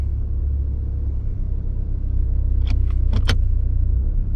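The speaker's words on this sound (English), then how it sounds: "you want to cycle it through all the gears for 5 seconds. Put it in reverse, neutral," A running Ford Escape with a 2.0L engine idles with a steady low rumble while the transmission is shifted through its gears, a few brief clicks and clunks sounding near the end.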